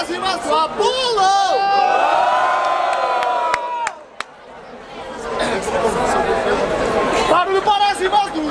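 A crowd at a rap battle in Barueri, São Paulo shouts and cheers loudly for a rapper, whooping voices rising and swelling over several seconds, dipping briefly before a second roar.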